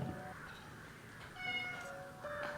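A cat meows faintly in a quiet home, with a couple of thin, drawn-out cries over low background noise.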